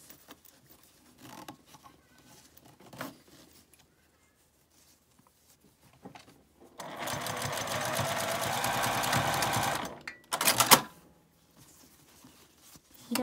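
Sewing machine stitching a zipper seam on a lined fabric pouch sewn from one piece of cloth with a 5 mm seam allowance. Quiet handling clicks lead into a steady, even run of stitching for about three seconds, then a short final burst.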